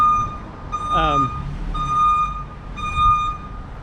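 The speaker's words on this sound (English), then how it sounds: "That's an Amazon truck beeping away there." A delivery truck's reversing alarm beeps steadily at a regular rhythm, several evenly spaced tones over low engine rumble, with a brief voice-like sound partway through.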